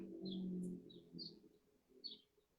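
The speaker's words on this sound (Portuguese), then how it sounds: "E esse som de passarinho aí é fantástico." Small birds sing outside an open door facing a street, giving a few faint, scattered chirps over a low murmur of background noise.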